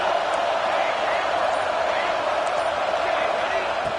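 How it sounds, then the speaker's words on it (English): A packed football stadium crowd roars loud and steady during a red zone defensive stand in a Navy versus Notre Dame game, a continuous wall of cheering and noise with no break. "This crowd is trying to inspire this defense to make a big red zone stop."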